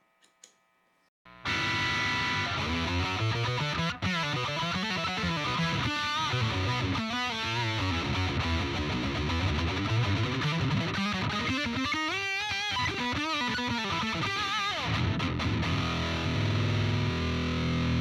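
An electric guitar with heavy distortion and an octave pedal placed in front of the amp plays a bending, wailing melodic line, loud and sustained, after a brief quiet start.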